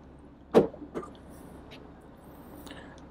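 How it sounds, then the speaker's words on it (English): The power tailgate of a 2023 BMW X7 xDrive40i opening after a kick sensor is triggered: a sharp latch release followed by a softer mechanical thunk, then a quiet motor hum nearby. "we're going to kick to open"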